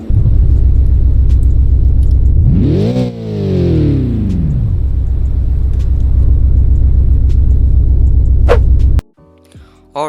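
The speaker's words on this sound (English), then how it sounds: "let's hear the startup on the car" A loud, close BMW M3 GTS engine fires up with a sharp rising revving roar, then settles into a deep, steady idle rumble before cutting off abruptly.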